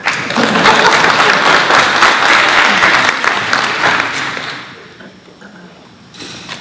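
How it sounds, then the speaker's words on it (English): An audience at a San Jose Buddhist Church Betsuin town hall meeting bursts into dense, sustained applause for Bruce, the Betsuin president; the clapping stays full for about four seconds, then thins out and fades to a few scattered claps. "Sounds like you guys wanted to clap for Bruce"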